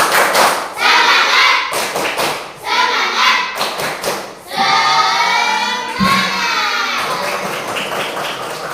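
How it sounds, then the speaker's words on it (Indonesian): A classroom joins in the rhythmic "tepuk semangat" spirit clap, sharp group claps and thumps landing in short patterned bursts, loud and close, with chanting voices between the beats. "kita tepuk semangat dulu ya"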